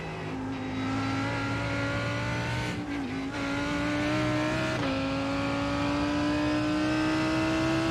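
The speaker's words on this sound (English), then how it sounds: "Faster car approaching." An LMP prototype race car at an IMSA race at Road Atlanta roars steadily close by, its engine note holding high and rising through gear changes as it approaches and passes.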